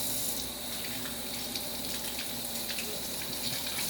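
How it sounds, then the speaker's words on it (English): Water gushes steadily from a kitchen tap while a rainbow trout is rinsed, a continuous close rushing splash with no talk. "I'm gonna turn the water on for a second."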